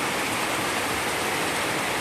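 Heavy rain pours down over rice paddies in a dense, steady, loud hiss with no breaks and no voices.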